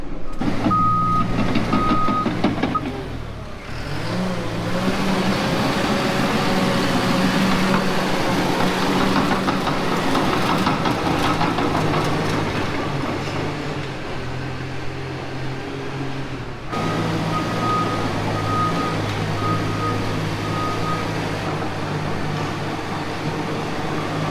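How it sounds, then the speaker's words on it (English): A laser grading machine's engine drones continuously nearby at a construction site while a steady reversing beep repeats at intervals, cutting in and out over the rumble. "They are laser grading this final rise before the concrete."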